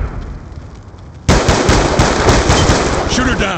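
Sustained automatic gunfire from the Black Ops II video game erupts abruptly after a stretch of noisy background, loud and rapid with dense repeated bursts, while a voice shouts over the action.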